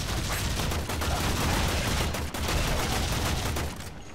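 Continuous rapid gunfire in Warframe, a dense, loud burst of shots lasting several seconds before cutting off.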